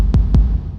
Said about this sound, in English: Okay, so that's just late reverb now.